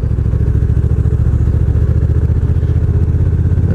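A Honda NT 1100 motorcycle engine while riding in manual mode, a loud, steady, close throbbing pulse with no speech.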